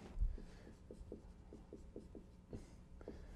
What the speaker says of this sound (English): Let me write it all out.